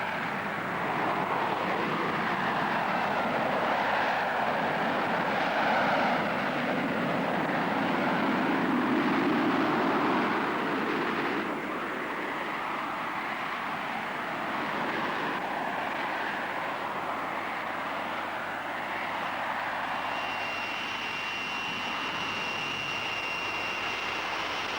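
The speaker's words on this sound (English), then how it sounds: "the Harrier can move out at Mach 1 and climb at a rate of nearly 10 miles a minute in conventional flight" A Harrier jet flies at a 1980s UK airshow, its engine a loud, steady broadband roar that swells and holds throughout, with a high whine emerging near the end and no talk.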